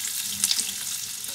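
Sausage and eggs fry in sunflower oil in a pan on the stove, giving a steady, close crackling sizzle with a few sharper spits and pops and no talk.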